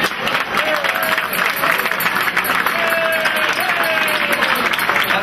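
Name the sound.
applause from dinner audience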